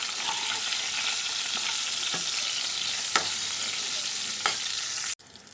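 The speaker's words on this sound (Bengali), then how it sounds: "তেল গরম হয়ে গেছে, এখন দিচ্ছি বেগুনগুলো" Eggplant pieces dropped into hot oil with salt and turmeric fry in a loud, steady close sizzle, with a few sharp spoon clinks and stirs before the sound cuts off suddenly.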